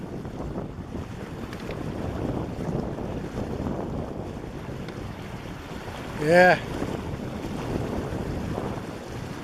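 Fast-flowing river water rushing around a wader standing knee deep, a steady broadband wash with wind noise, while a brief spoken word cuts in partway through.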